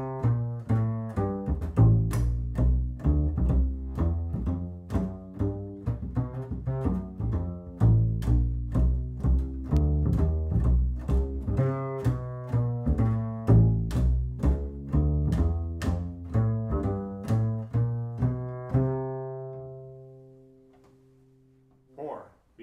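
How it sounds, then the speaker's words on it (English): A plucked double bass plays a jazz walking bass line, steadily through even, deep notes, one per beat, ending on a sustained low note that fades out. "In jazz, we use the bass to create what are called walking bass lines."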